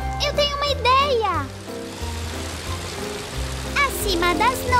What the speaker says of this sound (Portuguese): É por isso que está chovendo!